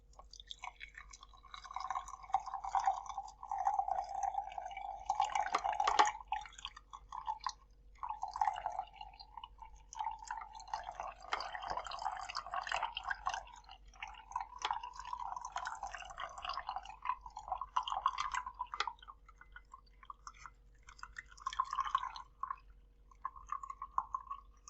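Ginger lemon honey tea is strained, with soft, continuous dripping, trickling and squishing at close range and low volume, as juice is pressed out of the solids.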